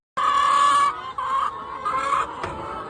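A bunch of chickens clucking inside community nest boxes, a close, steady chorus of layered clucks and calls running for the whole three seconds with a slight dip midway.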